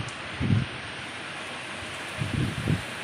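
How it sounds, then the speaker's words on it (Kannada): Rain falls in a steady broadband hiss with a few soft low thuds, fairly even and moderately loud throughout. "ಮಳೆ ನೋಡಿರಿ ನಿಜವಾಗ್ಲೂ ಕಣ್ಣು ತಂಪು ಅನ್ಸಾಕತ್ತೈತೆ ನನಗೆ ನೋಡಿ."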